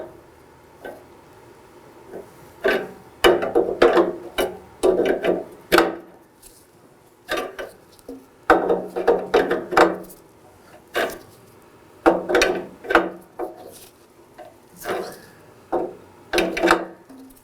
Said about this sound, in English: I'll be using the same 22mm wrench to tighten it down.